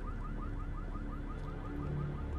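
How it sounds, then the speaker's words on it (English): A car alarm beeps in a rapid repeating pattern in the video game The Walking Dead: Survival Instinct, under busy game noise and low rumble, steady throughout. "Maybe if that car wasn't beeping,"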